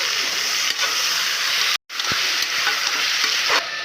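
Onions and tomatoes fry loudly and steadily in a pan for chicken biryani, giving a dense, continuous sizzle with a brief dropout near the middle.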